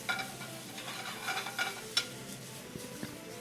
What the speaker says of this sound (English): So we're going to give it a little bit of a shake here.